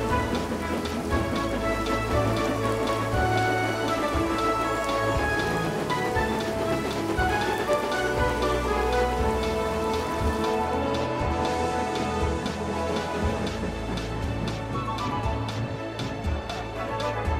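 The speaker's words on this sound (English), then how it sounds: "But Gordon, it's raining." Steady, close rain falling and pattering on surfaces in an animated Thomas and Friends railway scene, a continuous dense hiss with constant drops and a low rumble underneath, no voices.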